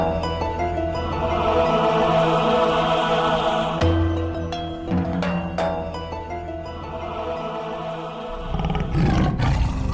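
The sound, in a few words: white tiger roaring, cartoon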